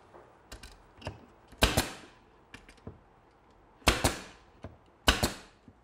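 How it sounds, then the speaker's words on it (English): Nails are hammered through a plywood back panel onto a wooden four-drawer chest in a woodworking shop. Light taps give way to several loud, sharp blows in an irregular rhythm, close by with no talking. "Put the back on and nail it up."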